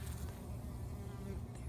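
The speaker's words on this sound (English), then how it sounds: "you can see I've got big blooms with bees in there doing their thing" Bees working inside large zucchini blossoms in a backyard suburban garden give a steady, close insect buzz that hums continuously throughout, with no talking.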